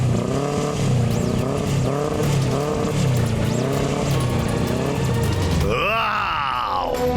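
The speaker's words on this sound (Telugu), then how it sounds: "బైక్ స్టార్ట్ అయింది." A motorbike engine starts in a dubbed action-film scene: a droning, groaning rumble with music runs throughout, then a rising, loud engine rev sweeps up near the end.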